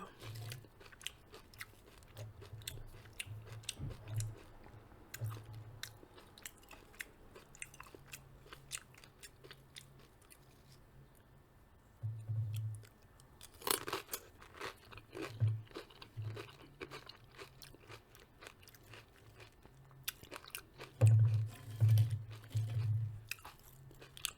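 Crunchy bites of cheddar egg bites eaten with corn chips, close-up chewing and crunching in scattered bursts, louder clusters near the end, with quiet pauses between.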